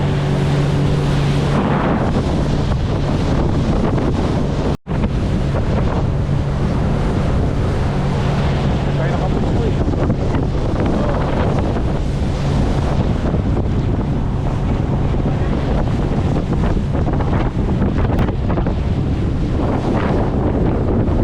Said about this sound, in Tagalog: sinabot kami ng malakas na hangin.